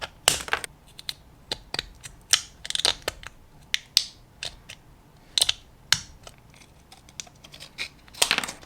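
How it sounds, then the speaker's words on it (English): Sharp scissors snip along the edge of a vacuum-formed plastic astronaut visor, giving a series of crisp, irregular clicks and cuts close by, with quiet pauses between them. "Then with scissors, very sharp ones, cut right along that edge."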